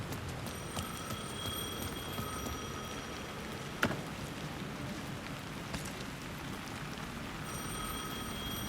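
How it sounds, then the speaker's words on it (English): A telephone rings in Alan Wake 2, a faint repeating bell tone that recurs at intervals over steady rain-like ambient noise, with no one speaking. "The phone was ringing again."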